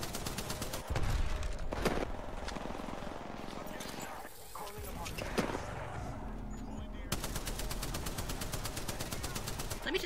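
Rapid bursts of video-game gunfire crackle continuously through a team shooter match, loud and dense, mixed with other game effects as players talk over the action.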